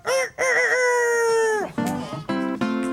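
A performer's voice mimics a rooster crowing during a live storytelling show: one long, drawn-out crow, loud and close, followed by a few shorter clucking, cackling bursts.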